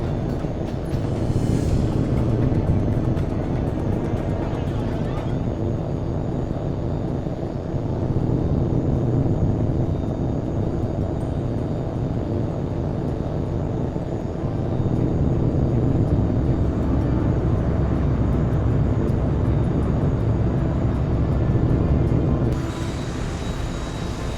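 A fighter jet in Tom Clancy's HAWX 2 roars steadily as it takes off, a sustained engine rumble that swells in waves over about twenty seconds before cutting off abruptly.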